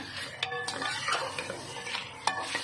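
Masala-coated tikka boti sizzles in a pan while a metal spoon stirs and scrapes, with repeated sharp clinks against the pan over a soft, steady frying hiss.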